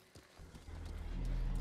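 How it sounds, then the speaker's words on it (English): Horse hooves clip-clop in the game Ghost of Tsushima, building into a quick galloping rhythm that grows louder over a second and a half, with a faint whinny-like tone. "My horse."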